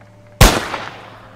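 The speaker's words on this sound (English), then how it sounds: "So you let loose a gunshot." A single loud gunshot fired indoors, a sharp sudden crack followed by a decaying echo that trails off down a corridor.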